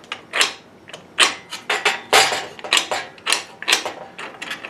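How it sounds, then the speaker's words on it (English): The depth-adjustment wheel and wing nut of a Kobalt 40-volt electric lawn edger are worked by hand, producing a series of close, irregular clicks and mechanical rattles with no talk. "You can take this wing nut loose and adjust this wheel up and down slightly."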